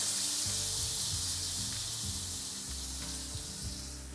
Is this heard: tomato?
yes